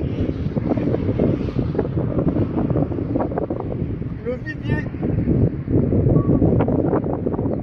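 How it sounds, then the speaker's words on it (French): Strong wind buffeting a boat's microphone with a constant low roaring rumble, loud throughout, while someone speaks over it. "Il y a un vent de fou."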